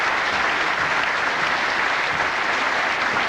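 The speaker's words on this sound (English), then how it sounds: "I think he deserves a round of applause just for even getting here." Audience applause at a 1986 VFL Coaches Team of the Year award show, with steady, dense clapping filling the room without a break.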